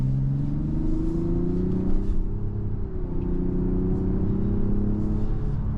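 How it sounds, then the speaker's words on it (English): A 2025 Mazda CX-90 with a 3.3-liter inline-six mild-hybrid engine accelerates, its steady engine drone rising slowly in pitch under road rumble inside the cabin, with no talking. "the one thing that this car excels in is the power of the engine"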